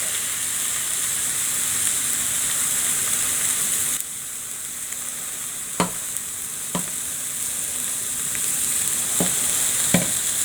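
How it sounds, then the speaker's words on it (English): Smoked bacon sizzles and crackles continuously in a pan up close, a steady hiss broken by a few sharp pops and clicks, with no talking. "I love the sound of bacon frying."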